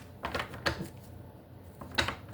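A deck of tarot cards is shuffled by hand in a few quick, crisp riffling bursts, close up against a quiet background.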